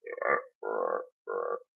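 A bullfrog used as a sound effect in a country song gives three deep, throaty croaks, evenly spaced and close, with nothing else around them.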